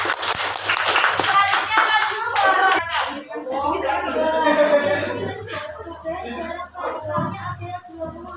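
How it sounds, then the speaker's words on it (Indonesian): A classroom group claps hands in a quick burst of sharp, close claps for about three seconds. A few more scattered claps follow while people talk, with some light chuckling. "Kelompok 1 tepuk tangan."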